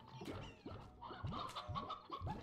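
Chickens clucking in the video game Slime Rancher, a run of close, loud, rhythmic clucks and squawks repeating every half second or so, with no talk over them.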